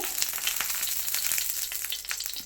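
Fish wrapped in banana leaf and tied with banana fibre sizzles loudly and continuously in hot coconut oil, a dense, close crackle of spitting bubbles with no voices.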